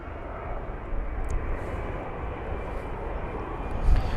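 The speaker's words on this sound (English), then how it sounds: "It's going to be right after this A220 instead. So yes, Swiss, right over here." A Swiss Airbus A220-300 departs London Heathrow, its jet engines giving a steady, loud broadband roar that holds throughout and swells slightly near the end.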